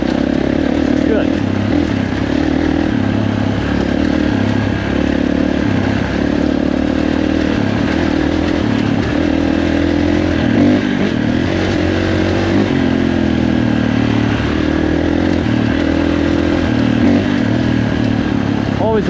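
A 2021 Kawasaki KX450 dirt bike engine on a trail ride, loud and close, throttle rising and falling in uneven surges with clattering over rough ground, continuous throughout.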